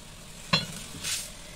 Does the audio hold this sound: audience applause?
no